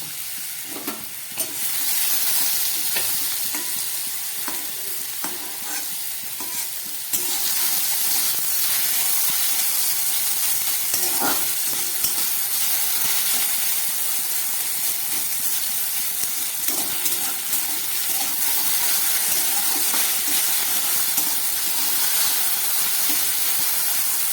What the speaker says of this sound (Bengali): আমি কিছুটা আলু ভেজে নিচ্ছি সবজি দিয়ে রোল তৈরি করবো